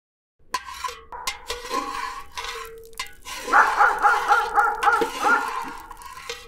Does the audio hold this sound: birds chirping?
no